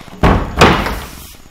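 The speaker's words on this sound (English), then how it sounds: "I'm going to shut the door on this side" Bathroom door in a resort hotel room swung shut, giving a close, solid thud followed quickly by a second knock as it latches, with no talking.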